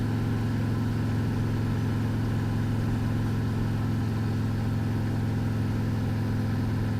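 A 2019 Harley-Davidson trike engine runs with a steady, deep, throbbing rumble at constant speed on the road, loud and close with wind noise, no voices.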